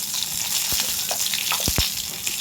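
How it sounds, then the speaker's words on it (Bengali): Dried red chilies, bay leaf and nigella seeds sizzle in oil left over from frying fish, a steady bright hiss with a few short pops and crackles, close and continuous with no talking. "আমি এর মধ্যে এবার একটু শুকনো লঙ্কা ফোড়ন দিয়ে দিলাম আর তেজপাতা দিয়ে দিলাম"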